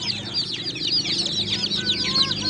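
Newly hatched day-old chicks peep rapidly and continuously inside an old cabinet, a dense, close chorus of high chirps over a low background hum.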